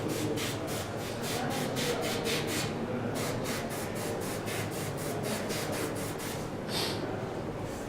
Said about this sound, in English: well, I'll just spray spots on it.